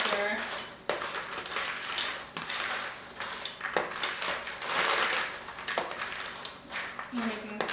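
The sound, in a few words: mixing fall snack mix in a bowl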